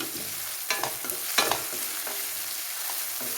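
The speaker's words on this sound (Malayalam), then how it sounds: "പച്ചക്കറികളും സവോളയും ഇവിടെ നിന്ന് വഴന്ന് വന്നിട്ടുണ്ട്" A pan of vegetables and onions sautés for chicken noodles, giving a soft continuous sizzle broken by a few scraping stirs of a spatula, close and fairly quiet.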